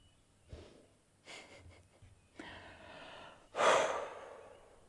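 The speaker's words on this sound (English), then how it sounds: "The in and out of his big heavy breaths" A full-grown male lion breathes heavily nearby, several slow, rasping in-and-out breaths separated by short pauses, the last one loud and drawn out.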